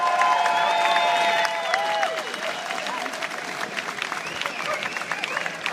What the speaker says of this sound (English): So can we get a round of applause, please, for Representative Julie